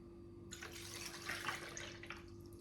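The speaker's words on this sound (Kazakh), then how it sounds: "Сүтімізді құйып алдық" Milk pours into a bowl in a short stream, a soft splashing trickle lasting about two seconds in a quiet room.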